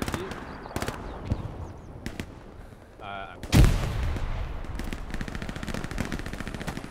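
Gunfire and a grenade blast in the World War II shooter Hell Let Loose, with scattered shots early, a sudden heavy explosion midway, then dense rumbling battle noise and crackling fire continuing under voices.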